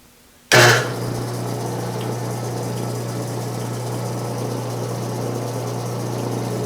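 Drill press switched on at slow speed, around 240 RPM, with a sharp start then a steady low motor hum and belt drone continuing evenly and close.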